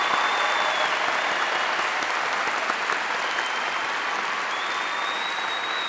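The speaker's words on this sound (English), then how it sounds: "Let's have one more round of applause for the graduates." A large commencement audience applauds the graduates at the University of South Alabama's 2013 spring ceremony, producing a dense, even roar of clapping that stays loud and unbroken throughout.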